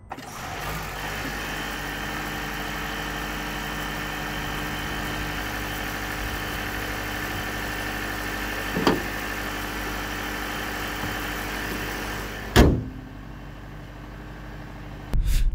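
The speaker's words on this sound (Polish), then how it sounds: "Posłuchajmy teraz silnika." The 2.0-litre four-cylinder petrol engine of a Honda ZR-V i-MMD hybrid runs at a steady, even idle hum throughout. Two brief sharp knocks stand out near the end, with no talking.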